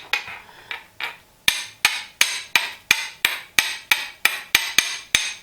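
A steel fire striker rasps hard against flint in a fire-starting demo, a run of about twelve sharp, loud, evenly spaced strikes after a few softer opening scrapes, each with a bright ringing edge.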